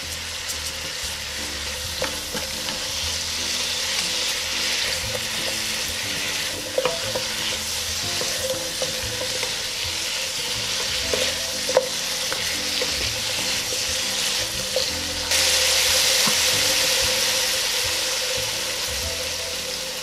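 Braised lotus root sizzles steadily in a hot pan with sesame oil and sesame seeds as a utensil stirs and scrapes, a continuous close frying hiss with occasional clinks and no speech.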